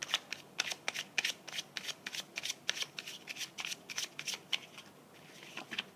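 Sibille fortune-telling cards shuffled and laid out during a tarot-style reading, a close, steady run of crisp riffling flicks and soft slaps repeated quickly with no voice over them.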